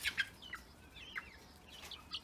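Young heritage-breed chickens in a garden cage, with a few short clucks and chirps spread across a quiet background, moderately close.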